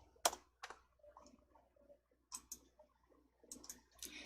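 Sparse, close clicks of a computer mouse sound in a quiet room during Excel work, a few sharp isolated taps with soft faint noise between them.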